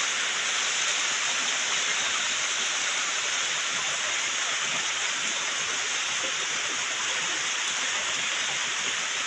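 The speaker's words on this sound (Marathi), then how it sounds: "सकाळ सकाळ पाऊस आलाय" Heavy early-morning rain falls during the first monsoon shower in Konkan, a dense and steady rushing hiss that holds at an even loudness throughout, with no voices.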